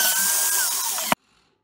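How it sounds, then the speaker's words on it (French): A drill mounted in a Wolfcraft 3406301 drilling stand bores a 6 mm hole with a steady, close whine that sags in pitch before stopping abruptly, followed by near silence. "Donc ça y est, la perceuse est en place."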